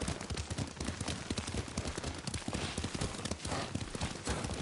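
Horse hooves clip-clop at a steady ride pace in the samurai video game Ghost of Tsushima, the rhythmic beats fairly close and continuous over a busy, dense background of game ambience.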